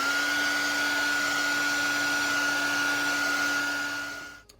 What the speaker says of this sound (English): I'm going to go ahead and get out my hair dryer and dry this layer